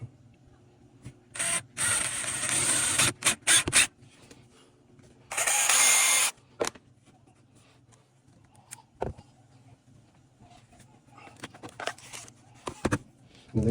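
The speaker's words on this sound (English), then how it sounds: "to start it, we're going to use a drill bit" A cheap Walmart drill bit hand-boring a hole through a new carburetor gasket, heard as bursts of harsh scraping and grinding separated by short pauses, with quieter handling noises in between.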